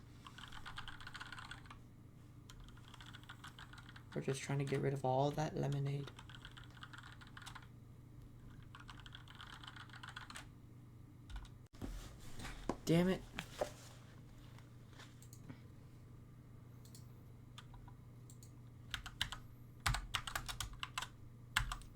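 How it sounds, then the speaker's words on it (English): Typing on a computer keyboard, quiet clicky keystrokes in scattered bursts near the microphone, with a person speaking softly over part of it. "You can really hear the sound of my typing"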